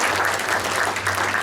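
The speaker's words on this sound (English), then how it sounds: "How about we give him a round of applause?" Brief burst of steady audience applause for Glen at a Rotary changeover night award presentation, an even wash of clapping filling the whole short moment with no speech on top.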